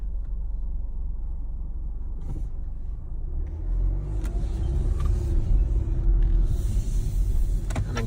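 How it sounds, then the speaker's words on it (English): A car approaches on a hill road outdoors, its engine and tyre rumble growing steadily louder and closer over several seconds, with no talk. "Oh, there's a car coming, so just wait."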